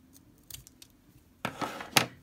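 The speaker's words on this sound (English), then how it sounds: "and then take these scissors" Scissors cut folded paper close up: a few soft snips early, then two louder, crisp cutting strokes near the end of the short, quiet take.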